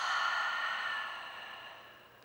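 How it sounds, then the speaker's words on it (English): A deep, slow exhale through the mouth during a gentle yoga session, a single soft breathy sigh that fades out gradually, close and quiet with no talking. "Take a nice deep breath in here. And exhale it through the mouth."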